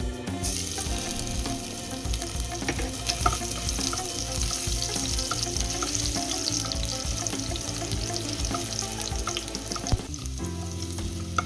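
Garlic and a dried red chilli dropped into smoking-hot oil, a dense, loud, unbroken crackling sizzle that holds steady throughout.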